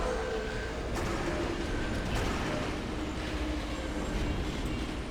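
A video game tram in F.E.A.R. 2: Project Origin rumbles along steadily, a dense low roar with occasional metallic clunks and a faint high whine, no talking.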